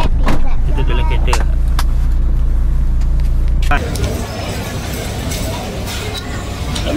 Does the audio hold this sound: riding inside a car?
yes